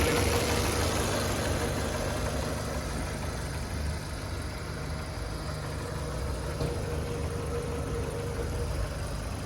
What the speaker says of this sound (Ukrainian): Двигун працює чітко